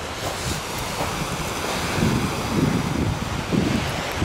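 Sea surf breaks on an empty beach in Alanya, a steady broad wash of waves with rolling swells and wind buffeting the microphone, no voices.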